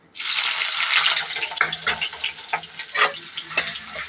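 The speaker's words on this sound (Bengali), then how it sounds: "এই যে আমি এর মধ্যে পেঁয়াজটা ছেড়ে দিচ্ছি" Sliced onions dropped into hot mustard oil in a pan for chicken curry, a loud sudden hiss that flares up and settles into steady crackling sizzle with scattered pops, close and continuous.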